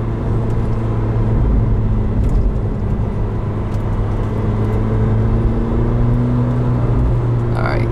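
A 2018 McLaren 720S supercar's engine rumbles steadily in a short burst of acceleration from inside the cabin, a loud, constant low drone with a rising tone near the end.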